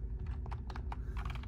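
Fingers type quickly on a computer keyboard, the keys clicking in uneven rapid bursts, close and fairly quiet, while a phone is held in the other hand.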